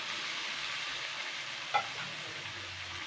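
Paste of ground vegetable peels from potato, pointed gourd, pumpkin, bottle gourd, green banana and ridge gourd, added to a hot pan: a steady, fairly soft frying hiss throughout, with one short clink partway.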